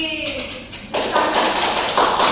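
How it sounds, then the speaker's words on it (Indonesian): A small group of students in a classroom breaks into quick, energetic hand clapping after a brief spoken stretch, the applause close and continuous to the end. "Tepuk tangan buat Isti"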